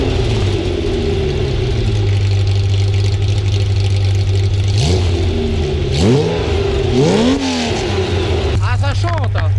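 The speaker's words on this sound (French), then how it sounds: "Donc pour votre petit plaisir les amis je vais la rallumer la voiture." Ferrari with a Monaco stainless exhaust idles with a loud steady drone, then is blipped in several sharp rising revs that fall back, the last burst crackling, close and strong throughout.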